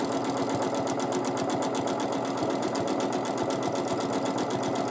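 A domestic sewing machine runs at a fast, even stitching rhythm during free motion quilting, its rapid needle clatter steady and close throughout.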